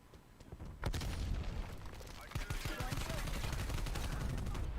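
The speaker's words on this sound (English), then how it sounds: "Throwing frag grenade." Video game battle with a frag grenade blast and bursts of gunfire, a sharp boom followed by dense rapid shots and rumbling, loud and continuous over background noise.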